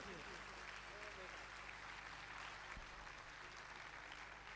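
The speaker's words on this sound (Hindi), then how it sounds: "आप एक बार तालियों से उस व्यक्ति का सम्मान कीजिए" An audience at a world Ramayana conference applauds to honour Dr Akhilesh Gumasta. The clapping is faint, distant and steady throughout, with some talk faintly underneath.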